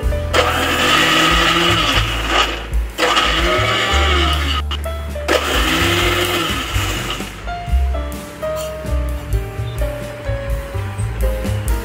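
A kitchen mixer grinder blends sambar spice paste in several loud, whirring bursts, each run rising and falling with brief pauses between, close and harsh.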